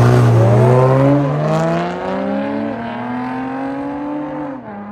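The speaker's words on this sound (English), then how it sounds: "now we're gonna see the AMG with launch control" A Mercedes C43 AMG launches hard with launch control, its engine note rising steadily and loudly through the gears, with a brief dip at each shift, close by and alone.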